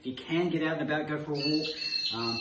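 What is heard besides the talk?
bird calling outside through open kitchen doors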